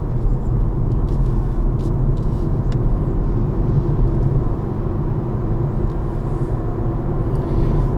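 A BMW 330i (G20) pulls steadily from 50 toward 80 on a night drive, heard from inside as a continuous low rumbling engine and road drone with faint ticks and no talking.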